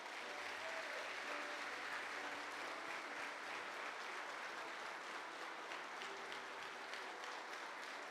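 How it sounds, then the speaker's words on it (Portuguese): Church congregation gives a sustained round of applause for Jesus during a Portuguese-language service, a dense, even wash of clapping heard from within the hall, fairly faint, with no talking over it. "aplauda Jesus bem forte"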